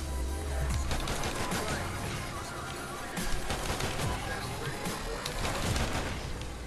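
Pistol gunshots in a video game firing rapidly amid a dense, busy gunfight, with cracks piling up over continuous background noise and a voice faintly present.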